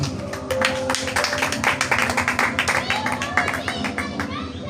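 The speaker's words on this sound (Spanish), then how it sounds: "Dele un aplauso al Señor." A church congregation claps in a quick, rhythmic beat during a Spanish-language sermon, with voices and shouts mixed in over the sharp, close claps.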